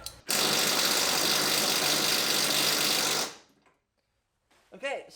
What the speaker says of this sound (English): We're gonna work on getting this bolt off.